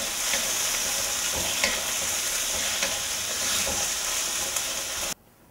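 Nasi dal being sautéed in a pan with pelantar instead of oil gives a steady, loud sizzle with stirring scrapes throughout, cutting off abruptly near the end.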